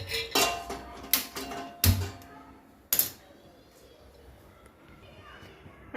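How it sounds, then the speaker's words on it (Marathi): A metal stand set down inside a cooking pot with water on the stove, making several sharp clanks and knocks spaced a second or so apart, with someone speaking between them. "आता हे मी स्टँड ठेवते"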